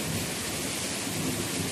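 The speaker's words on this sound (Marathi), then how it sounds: "ढगाची गडबड चाललेली आहे, वीज कडकडत आहे, पावसाचा जोरजोरात येत आहे." A monsoon thunderstorm rumbles with thunder over heavy, wind-driven rain pouring down outdoors, a loud, dense, steady roar of rainfall that continues unbroken from start to finish.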